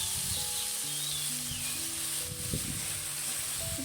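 Beef sautéing in a pan with chili powder, turmeric, cumin, coriander and green chilies gives a steady, close sizzle that runs alone throughout, with occasional stirring scrapes.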